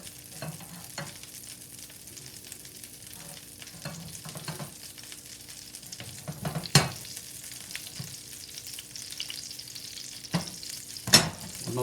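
Butter melts in a hot pan with a steady, soft sizzle, broken by a few sharp clicks and scrapes near the end; no one speaks.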